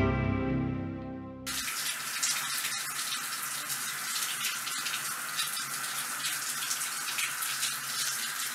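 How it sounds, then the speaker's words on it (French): Shower water running steadily in a bathroom, a continuous broadband hiss that starts abruptly after a brief low musical tone and stays loud and close throughout. "Ça fait du bien une bonne douche."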